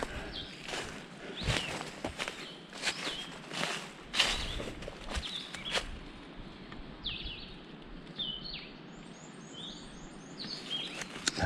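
A bird sings in the wilderness of the Caribou Speckled loop, with short bright chirps and whistled phrases recurring at moderate distance, mixed with crunching footsteps and rustling on the trail.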